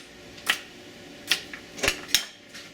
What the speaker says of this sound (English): I've got a stalk of celery. I'm just going to roughly chop this up.